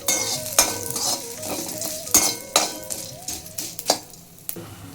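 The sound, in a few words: stirring and dry-roasting spices in a pan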